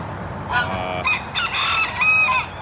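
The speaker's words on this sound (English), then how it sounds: "Every step they take, every move they make, they're honking and quacking and making a noise." Loud, close honking and squawking from geese, several harsh nasal calls in quick succession with no talking.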